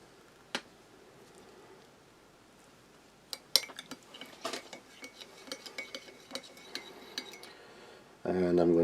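A spoon stirs tea in a bowl from a French army 24-hour combat ration, giving a quiet run of light metallic clinks and taps close by, then a sudden louder rustling noise at the very end.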